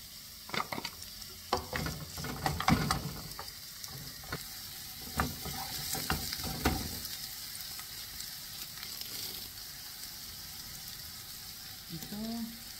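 Chopped onions and carrots sizzle in a hot pan for a turkey stew, with a steady frying hiss broken by scraping stirs and clinks of a utensil against the pan, close by.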